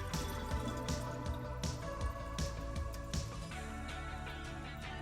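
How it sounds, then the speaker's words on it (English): Soaked sweet potato noodles drain as water trickles and drips steadily, with repeated soft splashes and wet squishing close by, no talking. "So I drain the water."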